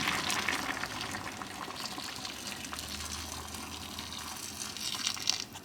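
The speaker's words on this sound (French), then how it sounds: "je viens couvrir avec de l'eau bouillante" Boiling water poured from a kettle over soup ingredients in a pot seasoned with chili flakes, a steady close gushing splash with a brief rising burble near the end, no talk.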